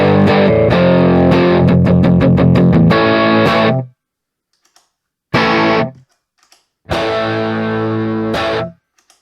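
An electric guitar played through a HeadRush unit, with a cab model combined with an impulse response, gives a thick, distorted tone. It opens with rapid chugging strums, then rings out in two separate sustained chords, with silent gaps between them.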